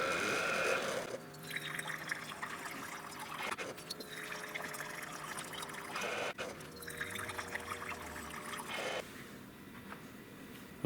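Keurig coffee machine running plain water through during descaling, a steady trickling pour into a cup broken by short pauses and pump surges, close and fairly quiet.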